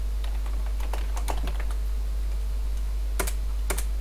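Computer keyboard typing while coding Lua exercises: scattered, quick, close key clicks in short runs, a pause, then a couple of sharper taps, over a low steady hum with no speech.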